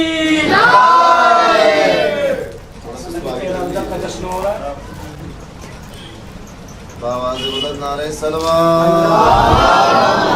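A crowd at an Ali Day gathering for 13th Rajab loudly chants a religious slogan in unison in reply to a Nara-e-Haidari call, a swelling collective roar of many voices that rises, dips, and surges again.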